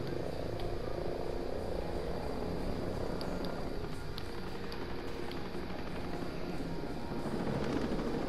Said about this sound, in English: Saw a damn drone.